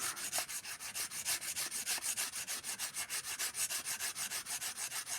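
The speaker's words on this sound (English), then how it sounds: "put the sandpaper in here and just go back and forth" Sandpaper rubs back and forth against a spark plug clamped in a vise, a steady, rapid rasping scrape repeating about five times a second, close and continuous with no talk.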